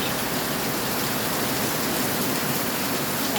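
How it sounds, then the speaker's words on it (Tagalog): Heavy rain pours in a dense, steady roar that fills the whole moment at close range, with no voices over it. "Sobrang lakas ng ulan."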